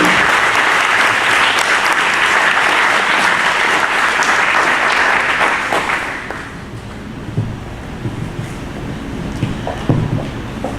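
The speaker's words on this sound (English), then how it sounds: "Ashley, Walton County Extension Coordinator, please give her a big round of applause for her new job position as a Northeast District Extension Director." A big round of applause from an audience at a community event honoring a new Northeast District Extension Director, loud and sustained for about six seconds before dying down into scattered claps and murmuring.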